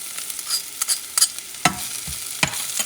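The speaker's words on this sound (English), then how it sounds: "I have a little bit of tomato paste, about a teaspoon. Let me add it there." Spoonful of tomato paste stirred into a pan of frying garlic, with a steady close sizzle broken by several sharp scraping clicks of the utensil against the pan.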